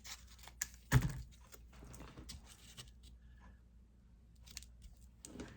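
Scissors snip through paper while trimming a scrapbook layout, a few quiet cuts with one sharper, louder snip near the start, close to the mic amid light paper handling.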